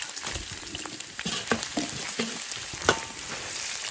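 Pork stir-frying in hot oil in a wok, a steady close sizzle broken by sharp scrapes and clanks of the spatula, with one louder strike near the end and no voices.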